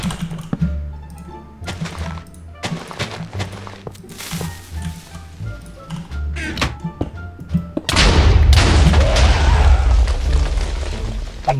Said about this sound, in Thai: มันวางระเบิดบึ้มผมเลย